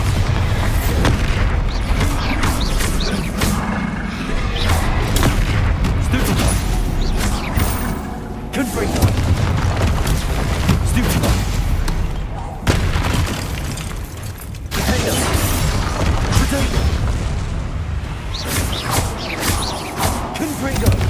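Bombarda blasting spells in Hogwarts Legacy go off as repeated heavy booming explosions over a dense, continuous din of game combat, with a few brief lulls between bursts.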